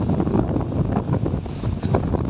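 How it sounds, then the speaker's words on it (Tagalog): Strong wind buffets the microphone outdoors beneath a bridge, a loud continuous rumbling gust with no voices. "Sobrang hangin naman."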